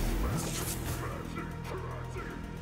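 A dog in the video game Krater gives a few short barks and yips close up, mixed with game noise and a little background voice.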